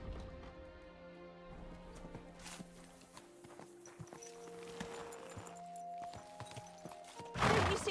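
A horse in the medieval game Kingdom Come: Deliverance II clip-clops at a walk, soft hoof steps under faint music, ending in a brief loud snort or whinny close by.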